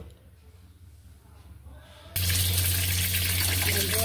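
Eggplant pieces dropped into hot oil in a wok burst into a loud, steady sizzle after a quieter stretch of kitchen background, the frying hiss continuing strongly to the end.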